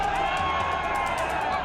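Crowd of JMM supporters chanting slogans outside a vote counting centre in Giridih after an election win, a steady, loud wash of massed voices with no pauses.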